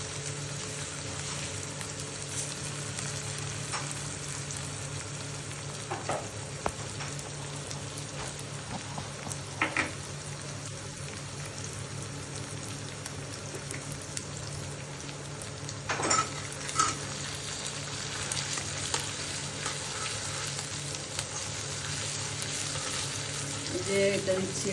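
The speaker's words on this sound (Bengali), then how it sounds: "এবার মশলাটা একটু কষবো, তারপরে গুঁড়ো মশলা দেবো।" Spices sautéing in a pan for Kolkata-style Bengali ghugni, with boiled peas and potatoes set aside, a steady close sizzle and crackle running throughout, with occasional stirring scrapes and no talking.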